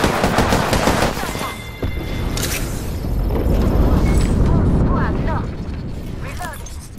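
Loud, close light machine gun fire in Apex Legends, a long rapid automatic burst with mechanical clatter and heavy low thumps, followed by quieter game effects and short tonal cues.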